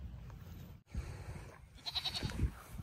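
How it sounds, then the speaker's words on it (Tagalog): Goats in a goat pen on a farm hit by a virus, several bleating in short overlapping calls over a steady background murmur of the pen. "pupunta na natin yung mga kambing."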